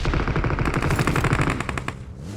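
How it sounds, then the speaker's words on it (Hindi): Rapid automatic gunfire in the battle royale game BGMI: dense, close bursts of shots crackle for about two seconds, then stop abruptly, with no talking. "मेरे को बंदे की गोली चलाने की आवाज़ थी"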